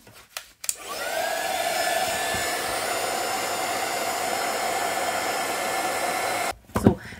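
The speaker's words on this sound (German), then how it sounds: "und dann föhnen wir schnell" A hair dryer drying heat-embossed craft work on a Halloween paper house blows in a steady, loud whoosh for about six seconds, with clicks and handling knocks as it switches on and off.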